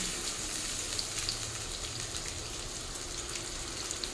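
Pointed gourd and onion frying in oil in a pan over medium to low flame, a steady even sizzle like light rain running throughout, with no voices.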